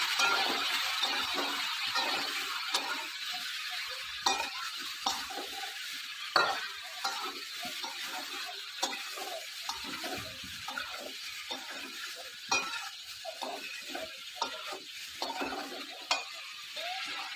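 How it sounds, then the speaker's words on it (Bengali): Meat fries with salt and turmeric in a pan, stirred steadily throughout: a continuous close sizzle with repeated scraping strokes of a utensil and faint clinks, no talking. "মাংসটা এখন অল্প করে ভাজবে, তারপর মশলা।"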